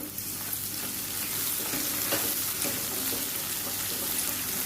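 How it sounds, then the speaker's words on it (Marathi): Coriander and roasted peanuts sauté in a pan for barnyard millet upma, giving a steady, close, dense sizzle that runs unbroken throughout. "यामध्ये मी अशी थोडी कोथंबीर पण घालते कोथंबीर छान अशी परतून घेते"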